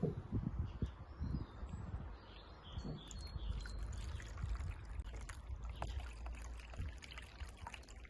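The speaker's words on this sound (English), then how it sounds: "We've made a waterfall out of Duplo blocks and Tupperware." Water trickles and dribbles steadily through a homemade garden waterfall built from Duplo blocks and Tupperware, a continuous close splashing wash with small bright drips, no one speaking.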